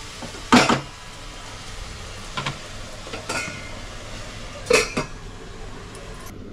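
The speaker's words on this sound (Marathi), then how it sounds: "आता याच्यावरती मी आहे ना 2 मिनिटासाठी झाकण मारते" A steel lid set down on a pan of methi paneer cooking on a home stove gives a few sharp metallic clinks and clatters, spaced out over several seconds against a quiet background.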